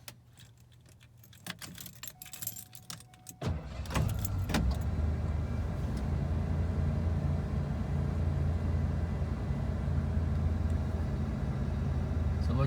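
Keys jangle for a few seconds before a 1990 Ford F250 XLT Lariat 4x4 cranks and fires on a cold start, then settles into a steady, loud, close idle rumble that fills the rest of the clip.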